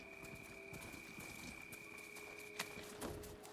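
Horse hooves in Horizon Forbidden West clip-clop steadily as a mount approaches, the soft beats moving under a constant ambient hum with a couple of sharper clicks near the end.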